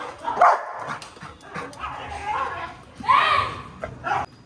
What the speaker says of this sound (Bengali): সামনের গলিতে অনেকগুলো কুকুর একসঙ্গে ঝামেলা করছে